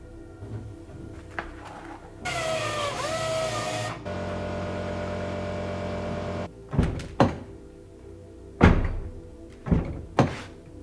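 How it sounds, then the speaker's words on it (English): Front door of a JZX100 Toyota Chaser knocking against a newly fitted Origin Labo side skirt: a run of mechanical whirring and buzzing, then several sharp, close thunks spaced a second or two apart. "The front door hits the side skirt."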